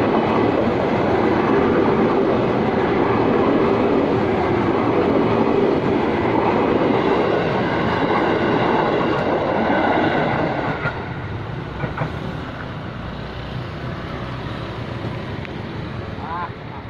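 A ten-car freight train rumbles past with a continuous roar and rattling wheels, then the noise drops as it moves away; faint voices sit in the background.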